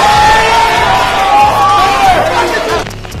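A crowd at a live battle rap event cheers and shouts loudly and continuously, with whoops and voices layered together, easing off slightly near the end.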